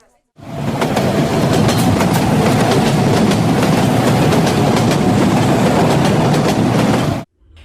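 A passenger train runs on rails, a loud, steady rumbling roar with rhythmic clicking that holds evenly for about seven seconds before cutting off abruptly.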